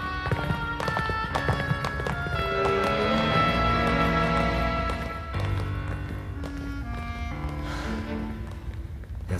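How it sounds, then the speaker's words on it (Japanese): Several sets of footsteps hurry past in an anime scene, a busy run of overlapping taps and thuds over a dense musical backing for about nine seconds. "あの足音、5人はいるね。"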